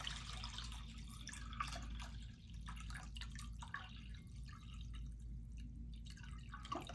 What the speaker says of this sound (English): I'm going to fill up our bowl with water.